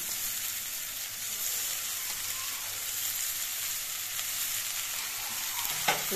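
Red amaranth greens frying and being stirred in a pan with turmeric, a steady soft sizzle throughout with a brief clatter of the spatula near the end, no talking.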